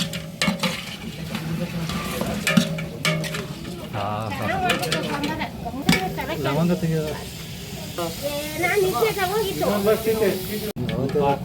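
Chicken pieces sizzling and hissing in hot oil in a frying pan as they go in for a tandoori-style dish, a steady fry under near, continuous talk and the occasional clink of a utensil against the pan.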